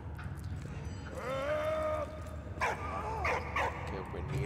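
Dog in the video game Valiant Hearts yelping and barking, a few short tonal cries and whimpers followed by sharper barks, close and clear over a steady game soundtrack bed.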